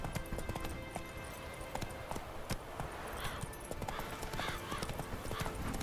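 Horse hooves clip-clop steadily in The Witcher 3, a continuous trotting rhythm over a busy game soundscape, with a brief whinny-like cry mid-way and no speech over it.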